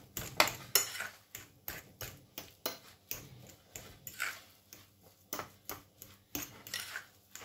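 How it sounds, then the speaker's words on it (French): A utensil works through a mash of potato and minced meat seasoned with salt, pepper and starch, tapping and scraping a bowl in a steady run of light, regular clicks, close and alone. "Et je continue donc à mélanger."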